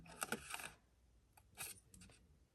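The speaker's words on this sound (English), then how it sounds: "I'm just cutting straight up the score again" Scissors snip through scored paper or cardstock during a Valentine's craft project, making a quick cluster of crisp cutting bursts followed by a few more short snips, close and fairly quiet.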